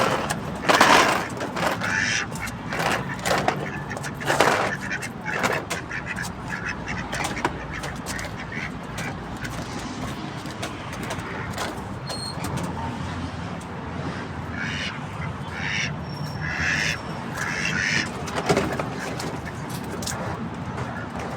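Ducks quack busily in a noisy cluster on a rooftop while being fed vegetables, with scattered crunching and pecking sounds throughout and occasional faint voices nearby.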